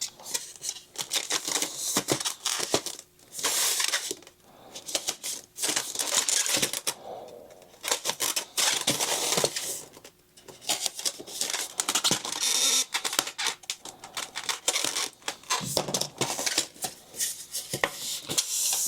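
Crinkly plastic packaging rustles and crackles continuously, close and fairly loud, as a Fans Toys FT-32C Gaudi transforming robot figure is worked free of its tray, with bursts of handling noise and brief pauses.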